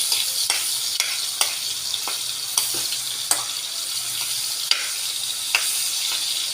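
Garlic and onion sauté in a pan with a loud, continuous hissing sizzle, punctuated by regular spatula scrapes and taps roughly every second, close up and without speech.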